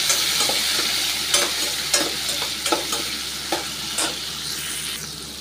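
Chopped onion and small tomatoes sauté in a pan for brinjal gothsu, giving a steady close sizzle broken by regular scraping stirs of a spoon.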